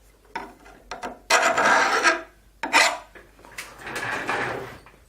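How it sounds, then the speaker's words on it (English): Hand file rasping across the teeth of a dovetail saw in short bursts, a run of quick light strokes followed by several longer, louder scraping passes with brief pauses between them, close and alone. "I'll be able to file down to those high spots with any luck"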